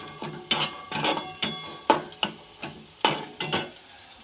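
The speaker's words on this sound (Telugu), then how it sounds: "ఇలా కొంచెం నూనె పోసుకొని ఫ్రెండ్స్, ఇది కొంచెం దోరగా వేగనిచ్చుకోవాలి ఫ్రెండ్స్" Almonds and cashews frying in a little oil are heard as repeated close scraping, stirring strokes in a pan, with a light sizzle underneath each stroke.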